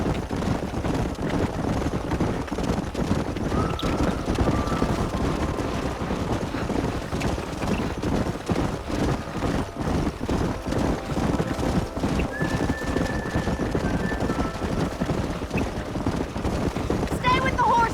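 Horse hooves clip-clop steadily through a Red Dead Redemption canyon roundup, with occasional whinnies and a continuous dense rumble of the herd moving together, close and loud under wind.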